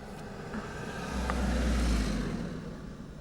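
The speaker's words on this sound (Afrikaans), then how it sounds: "Ag, die man hier kom twee karre." A car passes close by, its engine and tyre roar rising to a broad peak and then fading away, heard alone with no talk.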